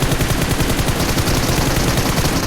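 Rapid automatic gunfire from PUBG Mobile rattles continuously and loudly at close range, a dense unbroken burst of shots with no talk.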